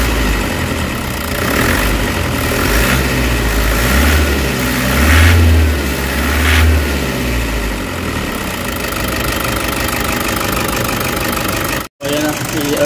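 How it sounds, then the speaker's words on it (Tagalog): A Toyota HiAce Commuter engine with a knocking hydraulic valve lifter in the valve train runs steadily and loudly up close, its rough mechanical clatter continuous under a low idle drone, with a voice talking over it before a sudden brief dropout near the end. "Yan yung knocking na yun, oh. Malakas sa cam loop na part."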